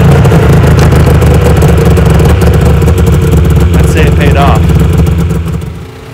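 A 700cc Ski-Doo snowmobile engine runs at a loud, steady, clattering idle close by, then fades away at the end.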